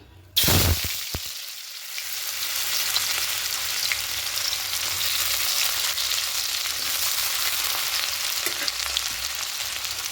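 Chopped onion dropped into hot oil left from frying katla fish, a sudden loud burst of sizzling that settles into a steady, close crackling fry, no voices.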